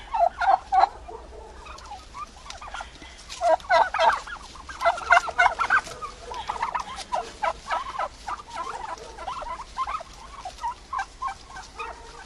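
Turkeys and young hens in a farmyard, repeated bursts of bubbling gobbles coming in irregular clusters, some close and loud, others softer, with no talking over them.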